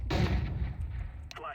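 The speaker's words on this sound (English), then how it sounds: "Throwing flashbang." A flashbang going off in Counter-Strike 2, a heavy booming blast with a deep low rumble that fades over about a second, followed by a brief sharper noise.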